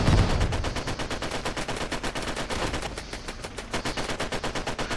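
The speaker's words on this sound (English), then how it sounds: "See your German SMGs just going off." Rapid bursts of German submachine gun fire in the WWII Online battle game, loud and nearly continuous, with rattling volleys repeating through the whole stretch and no speech.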